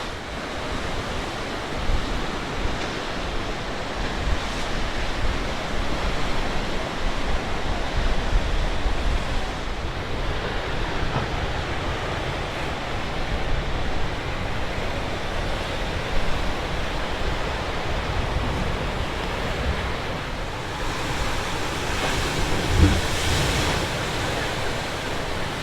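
Ocean waves surge and wash steadily against the rocky shore at Spouting Horn in Newport, Oregon, a dense continuous roar with light wind noise and no talking.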